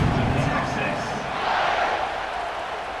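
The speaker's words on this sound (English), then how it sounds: "this crowd is feeling themselves after that last drive" Stadium crowd roaring steadily in College Football 26 during a tied fourth quarter as the kickoff unit lines up, a dense continuous wall of cheering that swells slightly midway.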